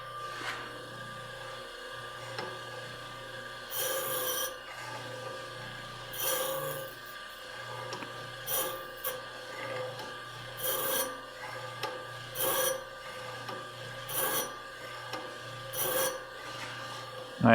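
A bench grinder wheel runs with a steady motor hum while a diamond dresser passes across it, giving short rasping bursts about every two seconds.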